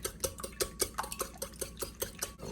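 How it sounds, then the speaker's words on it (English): Four eggs being whisked in a bowl, a quick regular rhythm of light metallic clicks and taps from the whisk against the bowl, close but fairly soft. "I've got 4 eggs in this bowl and I want to whisk them up."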